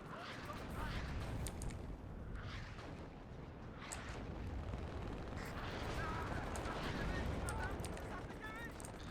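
Anti-tank guided missile fire and gunfire in the WARNO strategy game, a dense continuous rumble of battle with repeated blasts and shots layered over each other, fairly loud throughout.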